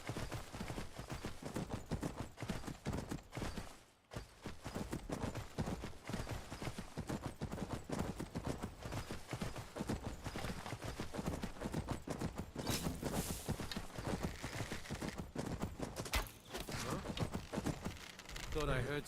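Horse hooves clip-clopping in Skyrim, a steady run of footfalls under constant game sound, with someone talking over much of it.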